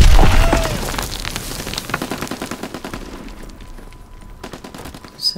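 Rapid bursts of gunfire from a World War II shooter game fill the mix, dense and loud at first, then thinning to scattered shots and thuds with a sharp report near the end.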